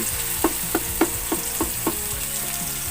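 Pechay and shrimp sautéing in a pan, a steady sizzle with six regular scraping stir strokes punctuating the frying noise.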